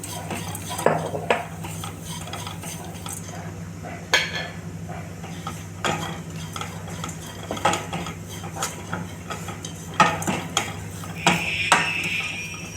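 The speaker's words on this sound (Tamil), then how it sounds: "இப்போ நம்ம முந்திரி பாதாம் இதெல்லாம் வந்து நம்ம வறுத்து எடுத்துக்கலாம் கொஞ்சம் கொஞ்சம் நெய் சேர்த்துக்கலாம்" Cashews and almonds roast in ghee as a spoon scrapes and clinks against the pan in irregular strokes, with a light sizzle running underneath throughout.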